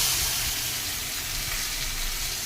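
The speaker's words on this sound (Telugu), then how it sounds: "అంతే ఉల్లిపాయలు వేసేస్తాము" Onions fry in a pan for gongura curry, a loud, dense and steady sizzle close by, with no voices.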